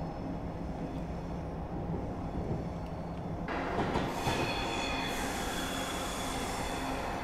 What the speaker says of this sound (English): I think there's a train coming this way.